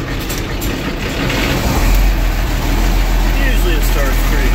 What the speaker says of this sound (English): Cold start for this 4620 for you.